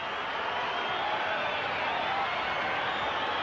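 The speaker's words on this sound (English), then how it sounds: "You'll hear the crowd." Steady broadband crowd roar at Parramatta Stadium during a 1988 Balmain versus Penrith rugby league playoff, a continuous even wash of distant massed voices with no distinct shouts.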